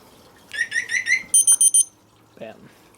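Scorpio SR motorcycle anti-theft alarm sounding close by: a rising series of four chirps, then three sharp high beeps, followed by a short faint tone after a pause.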